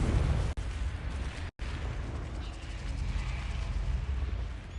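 Confringo fire spell explosion in the Hogwarts Legacy video game, a loud roaring blast with dense low rumble filling the whole span, briefly cut by two dropouts.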